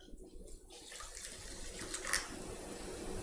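Water from a tap runs and splashes steadily into dried food to rehydrate it, a soft continuous stream that swells briefly near the end with a splashy burst.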